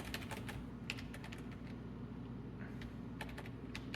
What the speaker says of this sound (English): This movement is all with the keyboard,